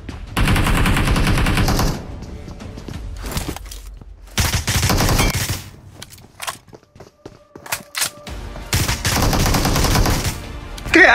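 Sustained bursts of M16 rifle spray fire in a mobile shooter game: three long rapid volleys near the start, middle and end, with scattered single shots and quieter gaps between, loud and close.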